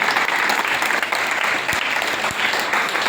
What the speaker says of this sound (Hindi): एक बार जोरदार तालियां हो सकती हैं सभी के लिए